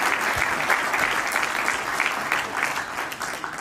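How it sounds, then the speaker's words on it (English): Steady, dense applause from a conference audience welcoming a chartered accountant guest at an ICAI Kuwait chapter budget event, sustained and even throughout. "So please give a big round of applause."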